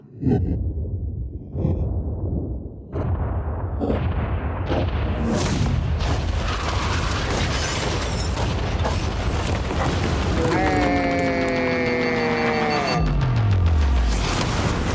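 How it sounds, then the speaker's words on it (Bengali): A yacht is blown up after a countdown, starting with a few sharp booms before a long, loud roaring blast that rumbles on and then sweeps down at the end. "3 2 1 উড়িয়ে দাও।"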